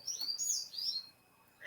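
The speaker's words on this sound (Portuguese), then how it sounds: "Olha meus passarinhos cantando na hora da gravação." Pet songbirds kept loose indoors give bright, high chirping trills in quick bursts, close and fairly clear, then a pause and one more brief call.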